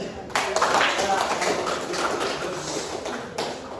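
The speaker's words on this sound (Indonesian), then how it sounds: "Oke, mari tepuk tangan." A group claps together in a sustained burst of applause, close and lively, ending with a few scattered claps.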